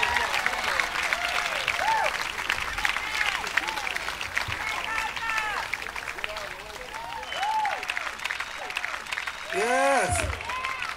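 Audience applause for a blues band at a live show, with a voice over the clapping and sliding guitar or vocal notes heard through the steady crowd noise.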